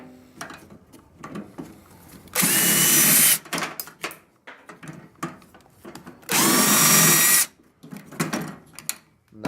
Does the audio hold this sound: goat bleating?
no